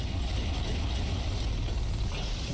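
Mechanical ratcheting and clanking gears run steadily at close range while a weapon reloads in the video game Iron Brigade.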